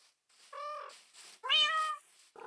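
Two separate cat meows from Minecraft, clear and fairly close, the second louder and longer than the first, with short quiet gaps between them and no talking.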